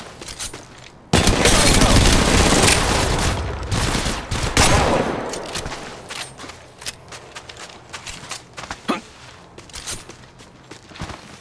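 Gunfire in the battle-royale game Apex Legends Mobile: a loud, dense burst of shots from about one to five seconds, then scattered single cracks and footsteps as the action thins out.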